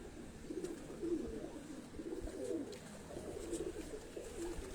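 Low, soft cooing from a racing pigeon, repeated in gentle rolling phrases against steady background hiss, faint and fairly close.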